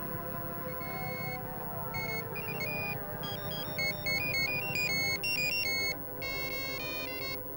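A telephone rings unanswered with an electronic ringtone melody of bright, stepped beeping tones that repeats steadily for several seconds over a low background hum, with no one speaking.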